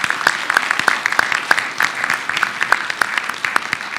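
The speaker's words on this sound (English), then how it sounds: "please give our panelists a round of applause" Audience applause for the panelists at the close of a conference plenary session, sounding as a fairly sparse round of distinct hand claps that continues steadily for about four seconds, moderately loud in a large room.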